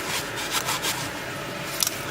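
A blue shop towel wipes oil off the crankshaft of a seized clone small engine, making a steady close-up rubbing and scrubbing with a brief sharper scrape near the end.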